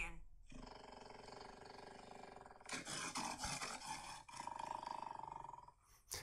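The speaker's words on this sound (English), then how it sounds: "So if I go ahead and ask Siri here, what does a lion sound like?" A recorded lion roar plays through an iPhone speaker as Siri's animal sound: several loud, rumbling roar bursts in sequence, broken by brief gaps, with growling texture.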